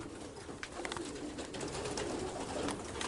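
Young racing pigeons at a breeding loft coo softly in overlapping calls, with scattered flutters and rustles and a steady background murmur, fairly close but quiet.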